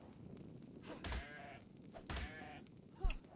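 A sheep in the video game Ark with the Primal Fear mod gives three separate bleats, each about a second apart. Each bleat is short and wavering, and dull thumps sound beneath them.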